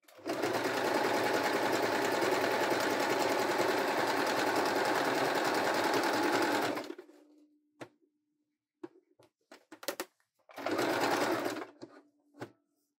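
A Fortuna F05 sewing machine runs a long, steady straight stitch through four layers for about seven seconds, then stops; a few sharp clicks and knocks follow before a second short burst of stitching.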